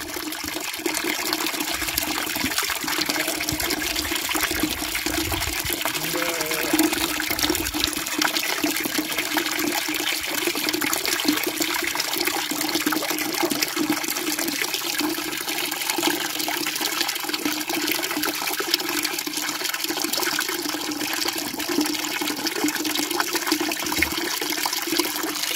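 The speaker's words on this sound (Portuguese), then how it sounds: "Tirei até a boia aqui, tá vendo? Pra que a água possa encher mais ligeiro." Water filling a sheep drinking trough during a drought, with the float valve pulled up, a steady rushing flow running unbroken and close throughout.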